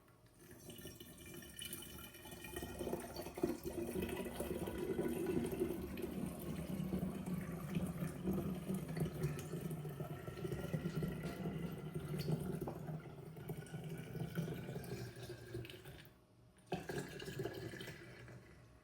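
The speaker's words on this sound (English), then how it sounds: "So what we do now, we just pour our kombucha in." Home-brewed kombucha is poured into bottles for a second fermentation, giving a steady trickling and splashing stream of liquid, fairly close, that breaks briefly near the end and then resumes.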